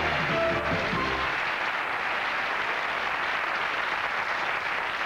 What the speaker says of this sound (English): There's a big cheer as you came down there.